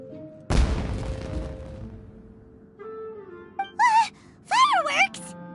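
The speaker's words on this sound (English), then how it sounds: "Was that an explosion? It sounded like fireworks." Fireworks go off in the video game Genshin Impact: a sudden loud blast with a long crackling decay, followed by character voices and vocal reactions.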